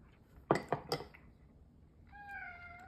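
A cat meows in a kitchen during chili cooking, several short meows at close range followed by a longer, higher meow, with faint clinks of dishes in a quiet room.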